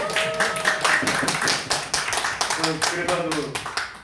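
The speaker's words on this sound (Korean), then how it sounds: "박수 한번 쳐주죠 우리 가연" Audience at a Korean Sunday afternoon church service clapping in a quick, lively burst of many hands, close and fairly loud, with talking over the applause.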